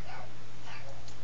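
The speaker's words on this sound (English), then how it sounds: "I apologize if you hear the puppies barking in the background" Puppies barking in the background indoors: a few faint yips and whimpers over a steady low hum.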